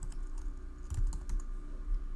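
Quick, light taps on a computer keyboard as a word is typed into a video editor's search field, a short cluster of soft clicks over a low steady hum.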